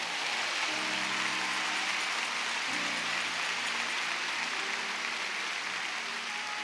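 A congregation applauds at a pastors' retreat church service in San Pedro Sula, Honduras, a steady sustained wash of clapping with a low instrumental hum beneath it.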